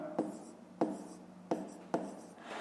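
A pen writes on paper during a fifth-grade maths exercise, giving four short, separate scratching strokes spaced evenly apart, close and quiet, with no voice.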